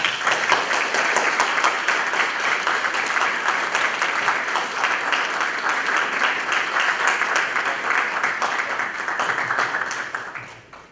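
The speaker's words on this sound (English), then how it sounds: "that applause was gracious" Sustained applause from a full audience, steady and loud for about ten seconds before tapering off at the end, with no talking.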